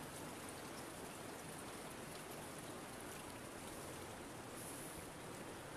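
The Tarn river in the Gorges du Tarn, seen from a canoe, gives a steady, even rush of flowing water, a faint, unbroken broadband wash with no talk.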